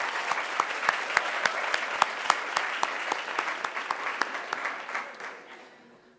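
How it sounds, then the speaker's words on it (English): Audience applause at an awards ceremony, a dense steady wash of many hands clapping with a few sharp louder claps standing out, fading out near the end. "please give yourselves a round of applause."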